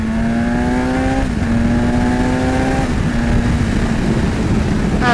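2020 BMW S1000XR motorcycle engine pulling hard through several quick upshifts, each pitch climb cut by a brief drop, loud and close with no talk.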